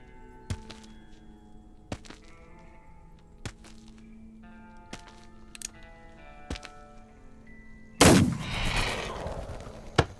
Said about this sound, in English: At the first gunshot